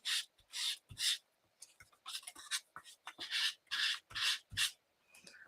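Sandpaper rubbed back and forth by hand during a craft session, a series of close, rhythmic rasping strokes in short bursts with brief pauses between, no talking.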